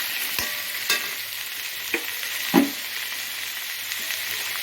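Tomatoes and onions sautéing in a pan for a country-vegetable pongal kuzhambu, a close, even hiss of frying broken by a few light knocks of stirring.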